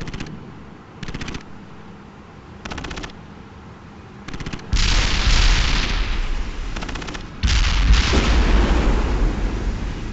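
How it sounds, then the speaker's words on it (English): Artillery barrage in the World in Conflict strategy game: loud booming shell impacts and rapid gunfire-like bursts, first in short clustered volleys, then heavier sustained rumbling blasts through the second half, with no talking. "Commence artillery strike."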